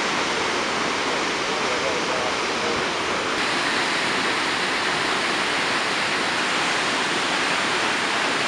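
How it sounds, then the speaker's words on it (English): A waterfall along the Million Dollar Highway in Colorado roars as a constant, dense rush of falling water, loud and close with no breaks. "Waterfalls that couldn't be seen from the road"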